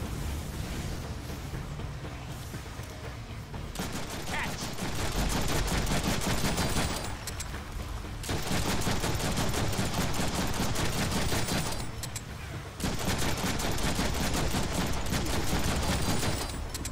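Heavy sustained gunfire from the Deadpool video game rattles continuously in loud dense bursts, with brief dips between volleys, over a rumbling game soundscape.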